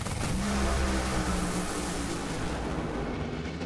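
Funny car drag racers roaring down the strip at a championship race, a dense, loud, continuous engine blast with crowd noise and no clear speech.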